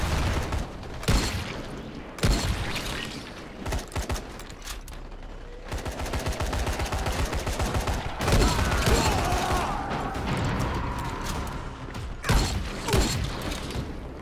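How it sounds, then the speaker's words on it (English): Shotgun blasts in Dying Light, several sharp loud booms spaced a second or two apart, mixed with mechanical clanks and creaks of in-game action. "Oh, I've got a shotgun."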